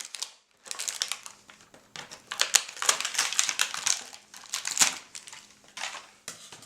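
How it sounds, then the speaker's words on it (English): Plastic packaging being peeled and torn off a box of Kinder Surprise eggs, with close, crisp crinkling and crackling bursts in irregular handfuls and short pauses between them. "let's remove some of this packaging"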